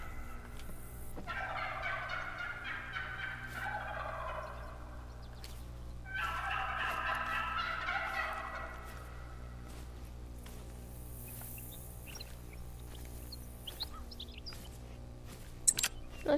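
Wild turkeys gobble in a hunting video game, two rattling gobble calls a few seconds apart at moderate distance. A low steady ambient hum and a few faint clicks sit underneath. No talk is heard.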